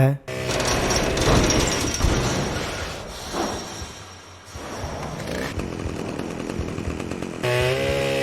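A chainsaw revs and roars steadily in the video game Manhunt, loud and continuous with a gritty buzzing engine tone and short swells in intensity, alone with no talk.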